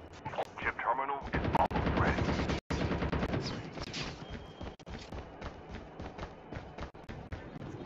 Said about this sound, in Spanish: Que vinieron de ahí los tiros.